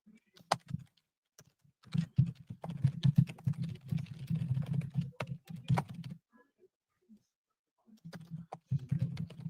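Bursts of typing on a computer keyboard, close and fairly loud, with rapid clustered key clicks in several runs separated by a pause of near silence.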